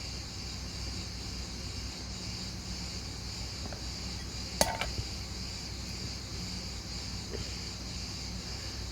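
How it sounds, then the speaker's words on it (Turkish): Grasshoppers chirping outdoors make a steady, dense insect drone that holds evenly throughout, with a brief faint knock near the middle and no voices. "Bak bu çekirgeler öldürüyor"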